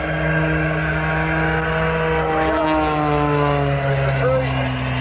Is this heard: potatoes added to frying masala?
no